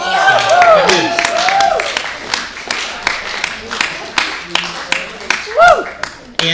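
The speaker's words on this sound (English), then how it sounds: "please give another round of applause to Michael Hughes" A meeting audience gives scattered applause, with individual claps ringing out unevenly across the clip while a voice talks over the start and again near the end.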